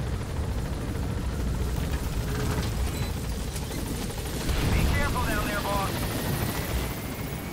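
A helicopter flight in the video game Metal Gear Solid V: The Phantom Pain, with a steady low rotor and engine drone throughout and someone talking over it.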